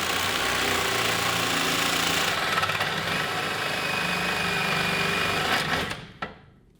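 Tubing notcher cutting steel tube for a cross kart frame, a loud continuous grinding, chattering machine drone that holds steady for about six seconds, then cuts off abruptly, with no one talking.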